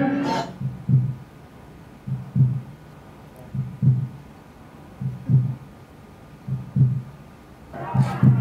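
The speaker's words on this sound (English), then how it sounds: "that was the only heartbeat I could find easily" A stock heartbeat sound effect thumps in a steady, slow lub-dub rhythm, low and muffled, repeating about six times with no talking.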